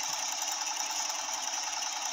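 A fishing boat engine running with a steady, buzzing mechanical hum and a fine rapid rattle, constant and fairly close for the whole short stretch.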